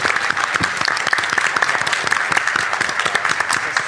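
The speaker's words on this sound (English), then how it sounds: "Big round of applause." Lively applause from a live audience at a podcast event recording: dense, crisp hand claps fill the room at a strong, even level throughout, with no speech over it.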